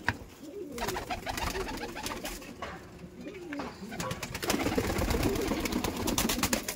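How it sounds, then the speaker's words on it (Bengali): Kaldom pigeons cooing in their loft room, a steady chorus of soft, rolling coos from several birds close by, with brief wing flutters and scuffles throughout. "তাহলে মোটামুটি দেখাই পায়রাগুলো।"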